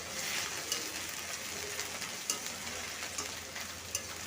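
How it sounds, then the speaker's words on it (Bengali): Garlic, ginger and cumin paste frying in a pan makes a steady, dense sizzle with a few soft stirring taps, close and continuous throughout. "এবারে এগুলোকে সুন্দর করে ভেজে নেব।"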